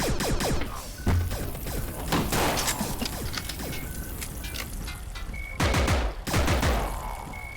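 Continuous rapid gunfire in a roguelite video game, dense clattering bursts of shots with sharp louder blasts and mechanical reload clicks, loud and close with no speech.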